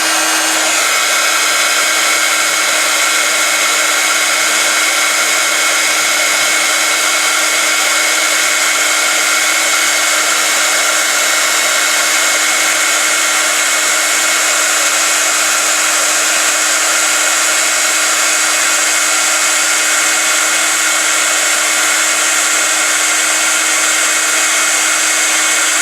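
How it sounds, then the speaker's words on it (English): An embossing heat tool blows hot air over powder on vellum for heat setting, a loud, steady whirring roar with a constant tone that runs unbroken throughout, close up and alone with no talk. "heat set it with the heat tool. It's just going to be noisy for a moment"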